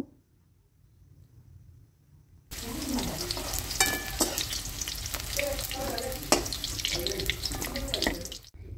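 Potatoes frying red in oil in a pan give a steady, busy sizzle that starts abruptly after a quiet opening and crackles on evenly until it cuts off near the end.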